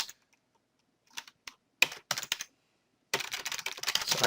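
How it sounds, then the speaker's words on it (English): Fingers tap out text on a computer keyboard in crisp, close clicks: a few scattered keystrokes, then a quick burst, a pause and a steady run of rapid typing. "You'd type in the name of your gateway."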